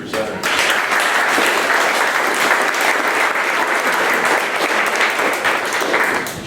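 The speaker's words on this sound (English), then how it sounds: "let's give another round of applause to the two presenters." A room applauding two presenters at a startup pitch event, a dense and loud burst of clapping that starts abruptly and holds evenly throughout, no talking over it.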